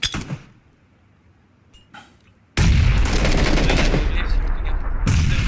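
Gunfire in PUBG: a few faint shots and pops at first, then a loud, sustained burst of rapid automatic fire that keeps rattling to the end, with a brief pause before it resumes.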